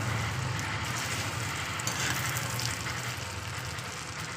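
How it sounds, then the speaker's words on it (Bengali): An egg fries in oil in a pan, giving a steady, even sizzle that holds at moderate loudness throughout, with no talking. "ডিম ভাজা হয়ে গেছে দেখতে পাচ্ছেন"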